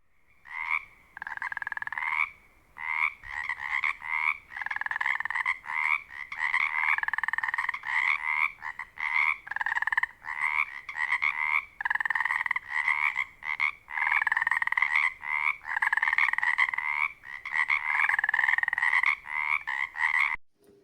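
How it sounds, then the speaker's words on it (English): Frogs in a swamp croak in dense, overlapping trilling calls that rise and fall continuously, fairly close and steady with short gaps, and no voices. "the frogs gathered in the heart of the swamp to sing a song in remembrance of the great kingdom of the frogs"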